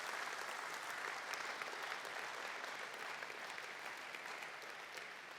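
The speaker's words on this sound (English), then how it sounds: "What about a round of applause for those excellent companies?" Audience applause for sponsors at a young farmer awards night, a dense, even wash of many hands clapping, distant and quiet, steady for several seconds.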